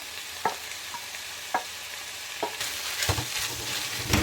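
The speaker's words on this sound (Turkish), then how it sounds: "soğan, yeşil biber, kırmızı biberimizi ekliyoruz bolca." Onion with green and red peppers sizzles in a pan for karnıyarık filling, a steady frying hiss broken by a few sharp utensil taps and stirring scrapes that grow busier toward the end.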